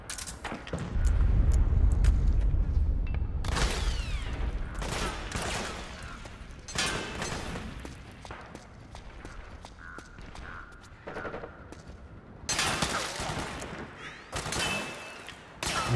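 Gunfire rings out in the video game Metal Gear Solid 4: Guns of the Patriots as intermittent sharp bursts and volleys, separated by quieter gaps filled with clicks and mechanical rattles.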